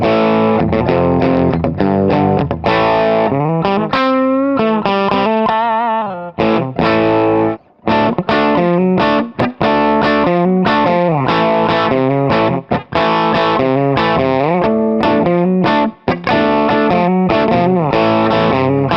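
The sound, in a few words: electric guitar played on bridge pickup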